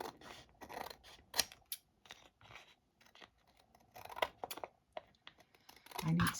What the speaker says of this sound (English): I need some sharper scissors.